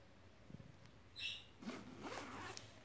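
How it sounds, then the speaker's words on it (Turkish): Zipper on a child's bag being closed indoors, a short close zipping rasp near the middle followed by fainter rustling and handling, no talk. "Fermuarını da kapatalım çantanın."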